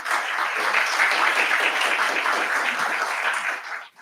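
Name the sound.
applause from an audience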